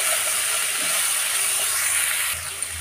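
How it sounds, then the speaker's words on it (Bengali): Vegetables fry with salt and turmeric in a pan, giving a steady, loud sizzling hiss up close that slightly eases near the end. "এতে দিয়ে দেব আমি পরিমাণ মতো লবণ আর হলুদ, দিয়ে এটাকে আমি একটু ভেজে নেব।"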